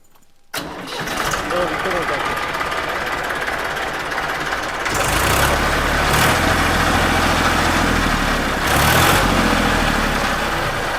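A Massey Ferguson 241 tractor engine cranks and catches after a quiet start, then settles into a loud, steady idle with a couple of brief revs, while people talk over it.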